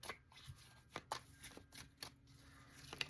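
Quiet riffling and snapping of a tarot card deck being shuffled repeatedly, soft crisp bursts in an uneven rhythm, close and otherwise silent.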